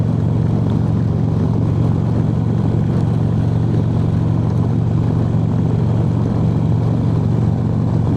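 A motorcycle cruises steadily down a highway, with a continuous low engine drone and wind rush at constant loudness throughout and nobody talking.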